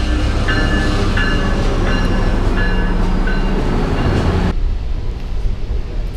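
Two trains pass each other on a Metrolink line: a steady nearby rumble with repeated rhythmic clacks, then the noise drops abruptly as the passing train clears, leaving a quieter rumble.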